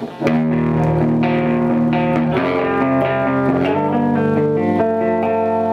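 A distorted electric guitar rings out through an Engl Powerball amp with its reverb switch acting as a boost, sustained chords and notes with a reverb tail, loud and close, no voices.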